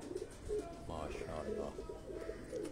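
A pigeon coos softly in a few low, throaty bursts, with a faint voice talking nearby.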